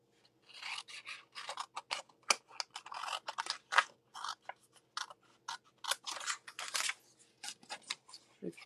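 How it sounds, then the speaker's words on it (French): Large scissors cut through material in a long run of crisp, rasping snips, repeated steadily at close range with brief pauses between bursts. "Je vais prendre mes plus gros ciseaux."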